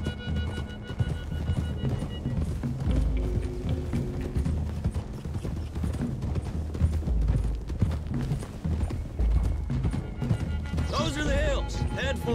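Horses galloping along a hillside road in Red Dead Redemption 2, a steady busy clatter of hooves under constant talking, with rattling tack and game music blended in.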